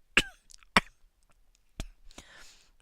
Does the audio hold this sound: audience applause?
no